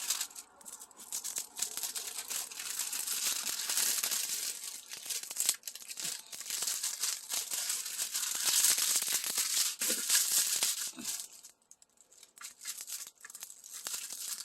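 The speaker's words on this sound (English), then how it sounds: "So I just pull up the paper." Protective paper peeled back from a diamond painting canvas, giving a drawn-out crackling, crinkling tear close up, with uneven bursts and brief pauses, with no speech.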